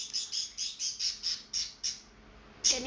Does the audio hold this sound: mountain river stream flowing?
no